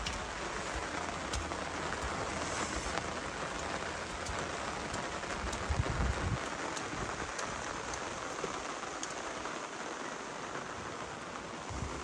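Steady rain falls continuously over a cotton field, a dense hiss of drops hitting surfaces with no voices, unchanging for the whole stretch.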